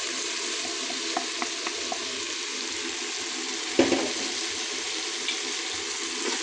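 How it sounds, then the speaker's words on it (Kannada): Vegetable palav masala fries in hot oil in a pan, a soft, even sizzle running throughout with a few faint stirring clinks and one louder scrape. "ಇನ್ನೊಂದು ಸ್ವಲ್ಪ ಫ್ರೈ ಮಾಡ್ಕೊಳ್ಳೋಣ ಎಣ್ಣೆಯಲ್ಲಿ"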